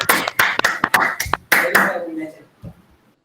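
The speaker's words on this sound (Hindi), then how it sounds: "सब ताली बजाओ अक्षिता के लिए, माइक ऑन करके सारे, आवाज आनी चाहिए मुझे" Students clapping for a classmate over open microphones in an online class, several uneven bursts of claps through different mics, with some children's voices mixed in, fading to quiet after two seconds.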